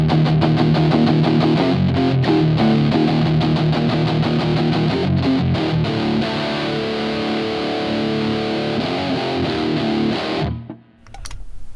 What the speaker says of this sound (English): that's the glorious sound of distortion back in the mix